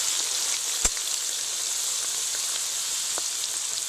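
Whole biryani spices fry in tempering oil, giving a steady, fairly faint sizzle with an occasional small pop.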